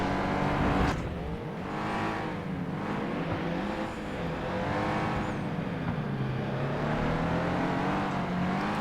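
The engine of a race-class car in FlatOut 2 on PS2 drones loudly and continuously, rising and falling in pitch through gear changes and acceleration, close and sustained with faint tire noise.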